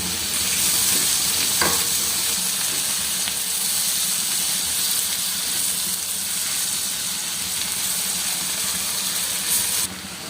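Garlic, ginger and green chilies crackle loudly in hot oil for a village-style lentil tempering, a dense, constant sizzle close up from start to end with a brief scrape near the start.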